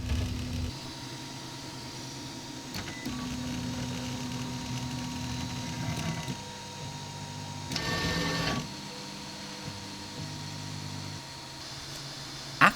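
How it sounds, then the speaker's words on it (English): A Hictop Prusa i3 3D printer runs its auto-home routine, stepper motors whirring in steady tonal buzzes that shift pitch as each axis moves, with a brief louder burst midway and a click at the end. "After the printer homes,"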